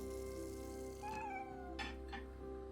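A cat meows faintly a couple of times under a steady tonal hum, the short rising cries brief and somewhat buried.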